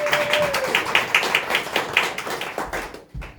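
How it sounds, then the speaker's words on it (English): Light audience clapping at an improv showcase, a small group giving a few seconds of steady, moderately near claps that thin out and stop. "A little applause, get them going, please."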